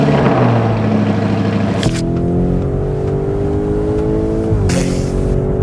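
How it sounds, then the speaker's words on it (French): A Lamborghini Urus Performante engine fires with a sharp crack, settles into a rumbling idle, then blips upward with a second bark near the end, loud and close. "Là, il est temps de démarrer."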